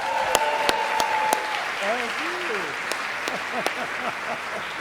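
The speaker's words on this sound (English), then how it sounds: "let's have another round of applause for Kristen Chenoweth" A conference audience at a closing plenary applauds for Kristin Chenoweth, a dense, sustained clapping throughout, with a voice speaking over it near the start.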